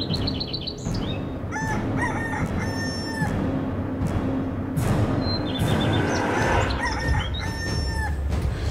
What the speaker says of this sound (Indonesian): Suara ayam jago jam segini berkokok.